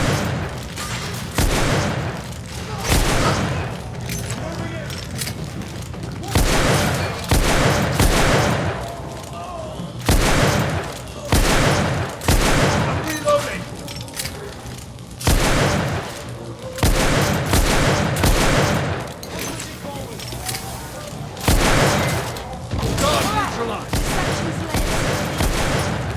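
Heavy gunfire in The Order: 1886 on PlayStation 5 rattles in loud, close bursts of shots and booms that repeat steadily, with brief pauses between volleys.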